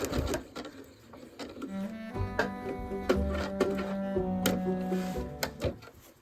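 A sewing machine stitches appliqué all the way around a shape, its steady motor hum and rapid needle ticking running in short, continuous runs close by.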